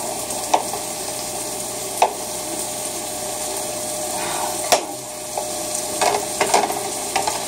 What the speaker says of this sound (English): Some of the meat's still kind of frozen, so I'm using a knife to kind of chop it up a bit.